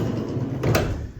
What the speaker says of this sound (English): sliding door opens and holds into place nicely